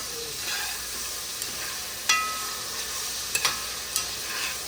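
Vegetables sautéed in oil over high heat for a squid and vegetable dish, heard as a constant bright close sizzle with a few crisp spatula scrapes and taps scattered across it, no talk.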